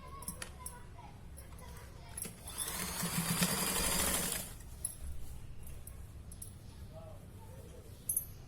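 A sewing machine stitches a seam on a young girl's nauvari saree in one burst of fast, even whirring lasting about two seconds, with quiet handling noises before and after.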